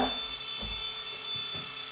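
Small drone propellers spin in a steady high-pitched whine with a constant tonal buzz, close and continuous with no talking.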